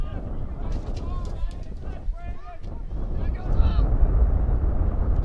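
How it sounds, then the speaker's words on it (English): Strong gusts buffet the microphone at an outdoor lacrosse field during a high school game, a loud continuous roar that swells toward the end, with someone talking over it. "Still windy here, Jeff."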